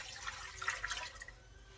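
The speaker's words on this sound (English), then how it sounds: "So what I'm going to do is pour in the 4 cups of water" Water is poured into a pot for gravy, a faint, steady splashing stream that tapers off near the end.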